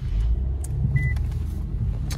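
Stock Infiniti Q50 heard from inside while driving, a steady low engine and road rumble filling the cabin with no talking.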